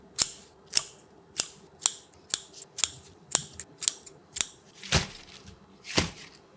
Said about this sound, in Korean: 누렇게 뜬 부분을 가위로 잘라냈어요.